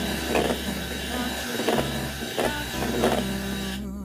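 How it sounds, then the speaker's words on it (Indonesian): An electric hand mixer beats egg batter for a fluffy tape sponge cake with a continuous close motor whir and a rhythmic pulsing as the beaters move through the bowl. "Dan setelah itu aku mixer pakai kecepatan rendah sampai tercampur rata"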